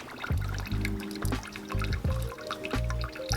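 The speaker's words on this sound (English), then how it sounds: "I'm just gonna drain the coolant." Coolant trickles and splashes out of a go-kart radiator into a pan in uneven, gurgling bursts, close and fairly quiet.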